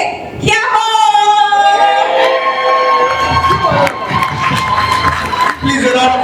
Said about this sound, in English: Please, a round of applause for her, a round of applause for her.